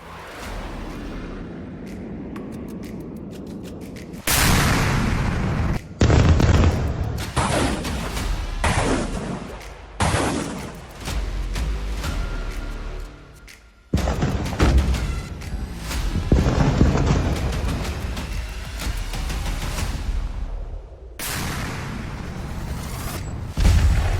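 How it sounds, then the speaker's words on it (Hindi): FAB-3000 three-ton bombs striking Mirnohrad in war footage: a run of loud, heavy booms, each bursting suddenly and then rolling into a long, rumbling roar, with short breaks between blasts and no voices. "मिर्नोग्राद पर 3 टन के FAB-3000 बम से हमला"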